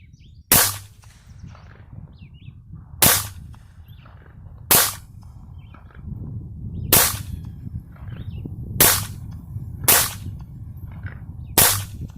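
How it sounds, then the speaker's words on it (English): A Ruger LCP 2 .22 LR pistol fires seven sharp, loud shots at uneven intervals of one to two seconds outdoors, each crack ringing briefly over quiet background. "we're going to shoot the LCP2 at a more reasonable distance that it's designed for"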